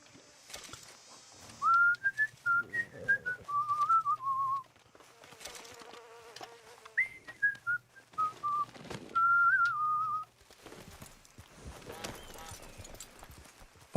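Someone whistles a melodic tune in two clear phrases, bright and close, with soft background noise and brief speech-like sounds between the phrases.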